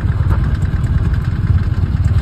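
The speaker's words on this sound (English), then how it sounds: "This is the idle noise." A Trabant car engine idles with a loud, steady, lumpy rattle and a deep throbbing pulse, close up, with no talking over it.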